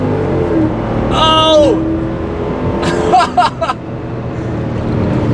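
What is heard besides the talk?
nitrous Mercedes V8 AMG car racing, accelerating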